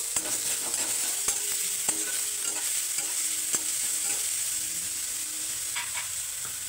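Chopped vegetables with finely cut coriander and carrot stir-frying in a pan, a steady hiss of sizzling oil with scattered scraping clicks of a spatula throughout, close and alone without talk.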